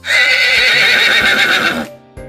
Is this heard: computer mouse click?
no